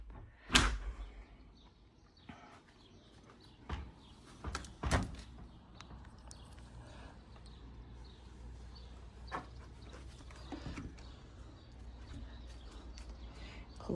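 A sliding balcony door rolls open with a sharp clack near the start, then later slides shut with another thud, amid quiet indoor rustling and small knocks.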